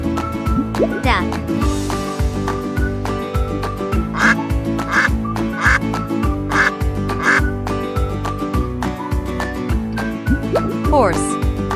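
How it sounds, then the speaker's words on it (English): A duck quacking in a children's farm animal quiz, several short quacks in a loose series scattered across a continuous cheerful music track. "Duck."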